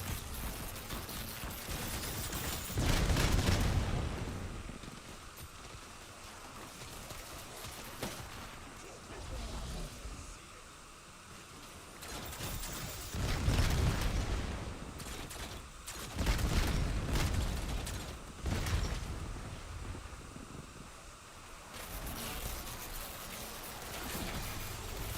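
Fireworks in the video game Paradox Junction, with repeated crackling bursts and booming surges rising and falling over a dense, noisy background.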